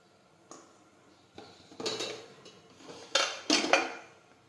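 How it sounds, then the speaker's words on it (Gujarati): Bitter gourds go into a pressure cooker of hot water, giving a short series of close metallic clinks and knocks against the pot, a few separate taps followed by a busier cluster near the end. "હવે આપણે તેમાં કારેલા બાફી લઈશું"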